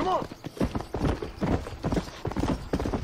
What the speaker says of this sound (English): Okay, this is a cowboy's horse.